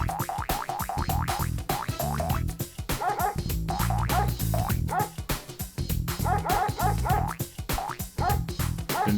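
Dogs bark in a Frogger video game: repeated sharp electronic barks and yips in a quick, regular rhythm over looping game music, loud and continuous.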